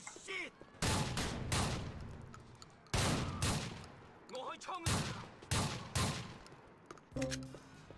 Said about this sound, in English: Oh, I got my shotgun.